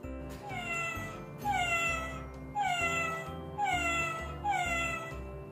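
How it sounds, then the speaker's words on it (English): A cat meows four times in an evenly spaced series, each a clear, drawn-out, upward-bending cry heard close and alone. "meow."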